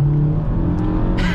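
A VW Golf GTI Mk5 with around 250 horsepower accelerates hard, its engine a steady, loud droning hum heard from close by over a short burst.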